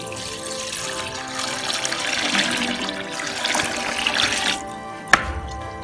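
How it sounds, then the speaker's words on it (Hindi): Milk pours into rice in a pot for gajrela, a steady liquid splashing and gurgling that runs continuously for several seconds close by, ending with a sharp knock. "और साथ ही डाल देंगे हम इसमें दूध।"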